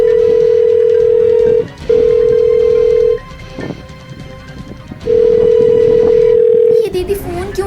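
A phone call rings unanswered: a steady ringback tone sounds in long, loud pulses with gaps between them, and a voice speaks briefly in one pause.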